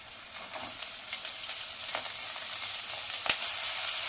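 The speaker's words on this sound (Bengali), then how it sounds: "একটু ভাজা ভাজা করে নিই।" Diced potatoes and carrots frying in a pan with curry leaves and green chilli, a soft, even sizzle with occasional light stirring scrapes and one sharper knock near the end.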